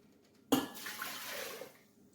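Water splashes into a small pot for about a second and a half, a sudden gushing pour that tapers off, close and fairly quiet with no talk.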